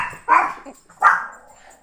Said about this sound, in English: my dogs always seem to bark through every video